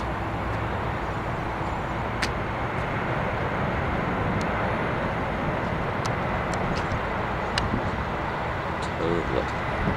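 United Boeing 747-400 on the ground at San Francisco airport, a steady, broad jet roar under light wind, with people chatting nearby and a few faint ticks and clicks.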